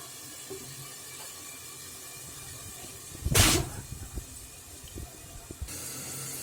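Eggs dropped into hot oil in a pan for a Bengali-style egg roast (dim bhuna) give one sudden loud sizzling hiss that fades into a quieter, steady crackle over low background noise.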